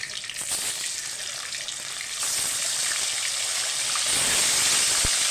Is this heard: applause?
no